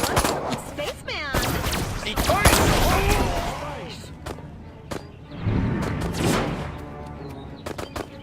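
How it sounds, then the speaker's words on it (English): Disintegrator ray firing repeatedly in Destroy All Humans!, sharp zapping bursts over game chatter and police shouting, loud and close with busy bursts through the first half and scattered shots later. "So I'm unlocking your disintegrator ray. Try it out on the fuzz."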